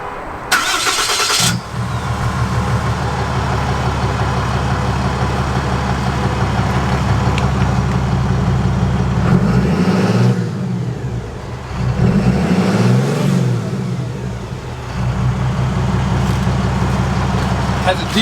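A RAM Cummins diesel pickup with an upgraded exhaust starts with a brief crank and then settles into a loud, steady deep idle. Two revs rise and fall near the end, and a person talks over the engine.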